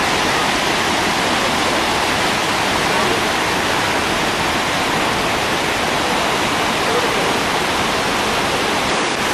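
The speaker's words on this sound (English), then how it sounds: "And then the water cascades down." Tower Falls on the Yellowstone River plunges into a deep canyon, heard from its base as a loud, unbroken roar of falling water. The dense, steady rush fills every moment without pause or voices.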